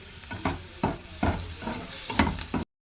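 Sliced onions with turmeric and salt sizzle softly in a pan while a spoon stirs them in a steady rhythm of scraping strokes, close and fairly quiet, with no talking.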